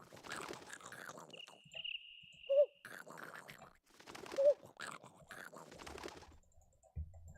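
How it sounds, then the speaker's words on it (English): In the video game Turnip Boy Robs a Bank, an owl gives faint, soft hoots, two brief calls set among quiet game sounds and low background noise. "It's an owl."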